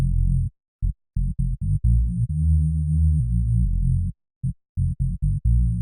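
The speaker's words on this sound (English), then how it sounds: "One is this garage-inspired Reese bass" A deep, buzzing garage-style Reese bass synth plays a choppy, stop-start pattern of short stabs and a few longer sustained notes, dry and alone.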